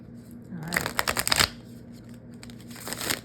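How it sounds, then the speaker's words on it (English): Tarot cards being shuffled close up, a dense burst of riffling flutter in the first second and a half, then quieter rustling and a second short shuffle near the end. "You get one more good shuffle in."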